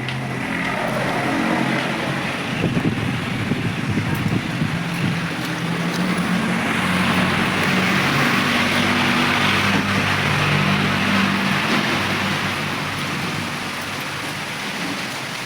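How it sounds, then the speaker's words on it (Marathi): Steady rain falls outside a home in the evening, a continuous broadband hiss and patter that stays loud and even throughout, with no voices. "मस्त बाहेर पाऊस चालू आहे"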